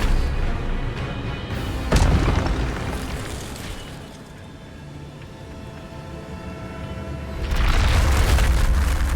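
An Incendio fire spell bursts out in Hogwarts Legacy, a loud booming blast near two seconds, a rumbling swell, then a second heavy fiery burst near the end.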